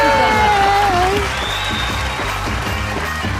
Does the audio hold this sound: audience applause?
yes